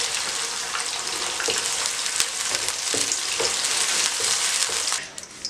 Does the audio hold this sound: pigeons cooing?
no